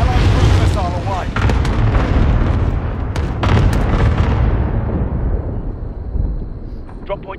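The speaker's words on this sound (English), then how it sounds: "And I'll cruise missile away." Cruise missile strike in a Ground War video game match, a loud sustained roaring explosion with crackling bursts that rumbles on and slowly fades, with in-game chatter mixed in.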